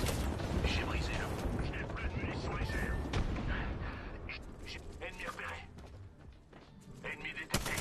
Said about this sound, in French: nous allons subir une frappe aérienne